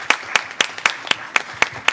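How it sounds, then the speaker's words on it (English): Eight sharp, evenly spaced claps, roughly four per second, sound like a single person clapping nearby in a steady beat at the close of a performance, moderately loud against a quiet background. "Please, another round of applause."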